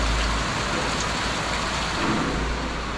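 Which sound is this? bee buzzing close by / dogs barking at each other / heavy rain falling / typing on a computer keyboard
heavy rain falling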